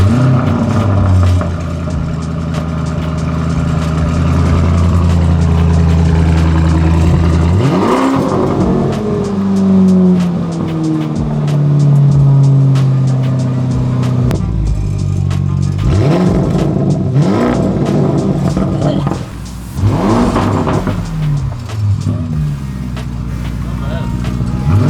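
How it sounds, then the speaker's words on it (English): A Lamborghini Aventador SVJ with no muffler fires up and idles loudly, then its V12 revs sharply several times, snarling up and dropping back, with people talking over the engine noise. "We're gonna start it up and see, well, hear how it's gonna sound with no muffler."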